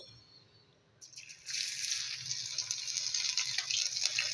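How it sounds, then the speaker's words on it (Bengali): Ginger and cumin tempering hit hot mustard oil with a sudden bright sizzle after a quiet second, then crackle and hiss steadily and loudly close by, with no talking. "আদা ফোড়ন দিয়ে দিলাম, আদা আর জিরে"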